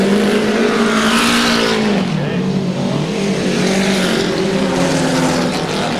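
Vintage speedway cars, one with an Offenhauser engine, race at a 1999 exhibition at Brisbane's Exhibition Grounds; loud, close engine roar swells and falls in pitch continuously as the cars pass.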